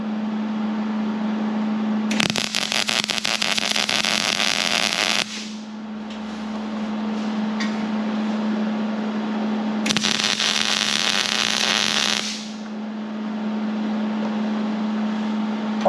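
Steel being tack welded while building a welding table: two separate bursts of loud, steady crackling arc noise, each lasting a few seconds, over a constant low electrical hum that continues through the quiet gap between them.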